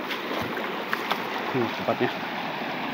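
Clear water pours down from above at a mountain campsite, a steady broadband rush lasting throughout, with a person speaking briefly over it.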